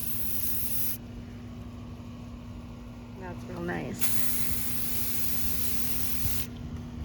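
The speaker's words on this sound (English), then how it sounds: "I'm just going to spray paint it silver" Metallic silver spray paint hissing from an aerosol can onto a tumbler in two sustained bursts, with a brief spoken remark in the pause between them.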